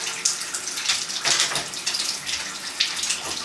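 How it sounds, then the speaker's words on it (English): Running water from a bath tap rinsing a dog during bath time, a steady close splashing and gushing with irregular surges. "Just rinse him out at this point."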